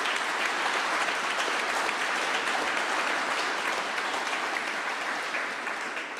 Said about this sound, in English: I want you to give Stuart a round of applause